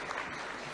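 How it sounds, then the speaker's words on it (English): Applause from an audience at an award ceremony in Kenya, a brief, dense wash of clapping at steady volume, with no voices. "A round of applause please"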